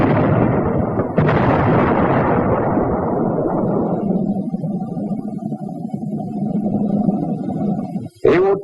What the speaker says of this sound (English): the high-explosive anti-tank shell for jobs like this